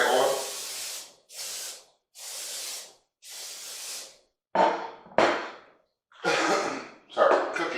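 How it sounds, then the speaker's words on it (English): Cooking spray coating a baking dish for chicken noodle casserole: eight hissing bursts, the first four long and even, the later ones shorter and sharper, each separated by brief silence. "we're going to coat this with some spray oil"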